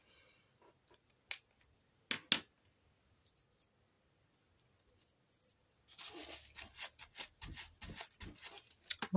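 Scissors snip paper for a collage, with a few isolated sharp cuts early on, then a quicker run of close, crisp snips toward the end, quiet and without talk.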